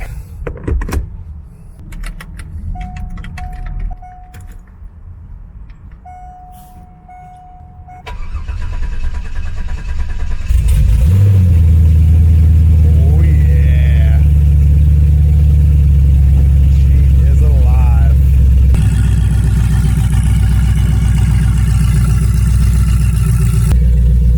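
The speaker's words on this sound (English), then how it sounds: "So for the first time on this channel, and for my first time in the last 6 months, we're gonna go ahead and start her up." A C5 Corvette with a newly installed transmission and differential is started for the first time in six months. First come clicks, door and window sounds and a repeating chime tone, then the engine cranks, catches and settles into a loud, steady idle.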